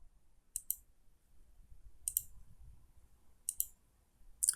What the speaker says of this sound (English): I'm going to go ahead and click Cancel